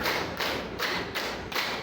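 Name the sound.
rhythmic hand clapping counted one to five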